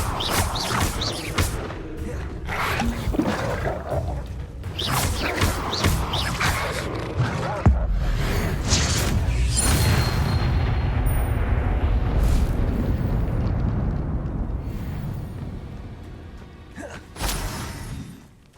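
Fire spell Incendio cast in the video game Hogwarts Legacy, a dense roaring, crackling burst of magical flame amid chaotic combat effects, loud and sustained over several seconds before fading out.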